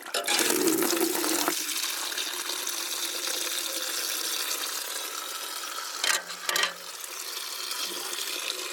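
Water flows from a blocked household tap, starting with a sputtering gush and settling into a steady hiss, with a couple of brief gurgling surges near the end.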